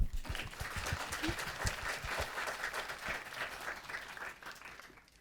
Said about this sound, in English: I think Jeremy deserves a round of applause.